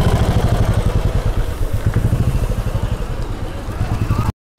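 A Royal Enfield motorcycle, just repaired after a broken self-starter bearing, runs on a test ride with a steady low thumping engine pulse, loud and close, with a brief dropout near the end.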